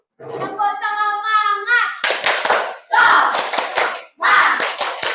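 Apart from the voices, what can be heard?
schoolchildren doing rhythmic clapping chant in class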